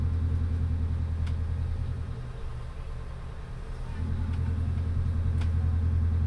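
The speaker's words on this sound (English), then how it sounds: "I gotta get the other engine going, or we're not going anywhere" A boat engine at a fuel dock rumbles steadily at idle, low and close, its tone dipping briefly in the middle before settling back into a steady run.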